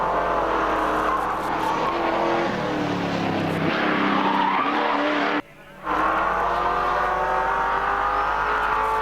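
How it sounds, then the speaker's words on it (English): Tires squeal on a race car driven hard at the 1980 Bathurst 1000 (Hardie-Ferodo) on Mount Panorama, a loud sustained screech over the roaring engine, cutting out briefly before the noise resumes. "Squealing there as Bobby Morris throws the car around"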